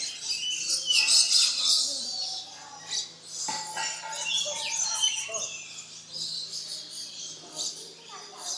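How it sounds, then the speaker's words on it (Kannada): Several birds squawk and chirp close by in overlapping bursts at an aviary in Ramoji Film City, with faint human voices mixed into the busy background. "ನೋಡಿಲ್ಲೇ ಬರ್ಡ್ಸ್ ತುಂಬಾ ಚೆನ್ನಾಗಿದಾವೆಲ್ಲ."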